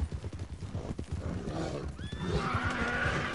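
A horse whinnies loudly in the Red Dead Online video game, with a rising, wavering neigh in the middle of the clip. Hoof clip-clops and other game sounds are heard before and after it.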